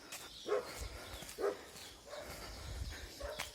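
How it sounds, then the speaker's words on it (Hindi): Several dogs barking at intervals on a morning walk outdoors, short sharp barks repeating a few times at moderate distance amid ambient street noise. "इतना ज़्यादा डॉगी है भाई इधर तो।"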